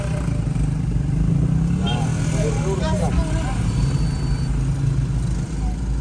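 A motorcycle engine idles steadily with a low continuous rumble throughout, while people talk nearby over it.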